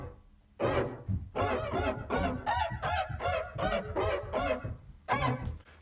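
A seagull call sampled as a synth instrument in Logic Pro's Alchemy repeats in a rhythmic run of nasal, honking squawks, loud and close, with short gaps between phrases.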